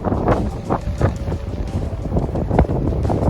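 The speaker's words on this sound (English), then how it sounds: "the wind is blowing as hard as it is" Strong wind buffets the microphone outdoors during rainy bass fishing, roaring in uneven gusts up close with no voices.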